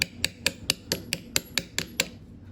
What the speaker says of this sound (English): You can use the hammer